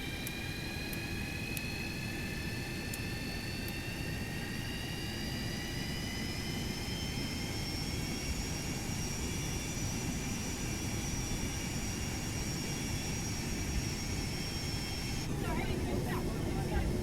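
Boeing 737-200 jet engines spooling up on a takeoff roll in a flight simulator game, a steady loud roar with rising whining tones that climb slowly and hold, the rumble continuous throughout.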